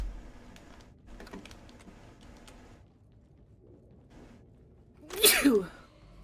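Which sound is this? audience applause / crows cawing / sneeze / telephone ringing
sneeze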